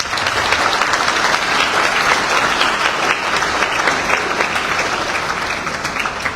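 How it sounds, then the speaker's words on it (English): Audience applause at the official launch of Liberia's Executive Mansion communication internship: a full, continuous round of clapping from a sizeable crowd, loud and even throughout, easing only slightly at the end. "Don't you think it deserves a round of applause?"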